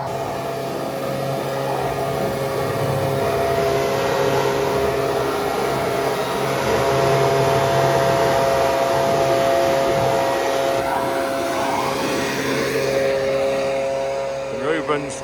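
Compressed air or a blower roars steadily as dust and leftover wheat and barley seed are cleared from a combine harvester header, a loud continuous rushing hiss with machinery hum underneath, with people talking over it.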